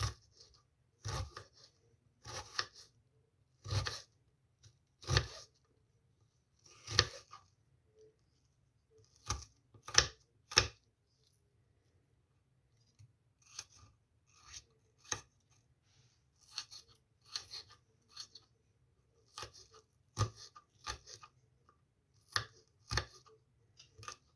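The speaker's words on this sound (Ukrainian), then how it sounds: "І тепер будемо кришити. Як можна наймілкіше. Щоб вона дрібненька була цибулька." Knife finely chopping onion on a board, bursts of quick crisp cuts separated by short pauses, close and clear with no voices.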